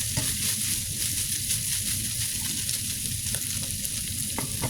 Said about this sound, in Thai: ผัดไปจนกว่า มันจะสุกจ้ะ